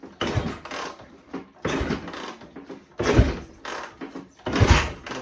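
Repeated kickstart attempts on a BSA Rocket Three Mk. 2 (A75V) motorcycle: four heavy mechanical thumps and clatters spaced about a second apart, loud and close, with no talk.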